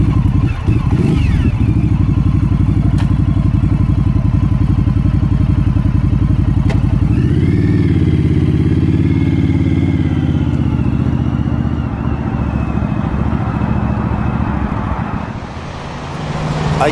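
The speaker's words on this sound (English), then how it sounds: "I just got to the gig right now on the motorcycle" A motorcycle engine drones steadily up close, loud and continuous, shifting pitch as it accelerates, with wind and road noise mixed in.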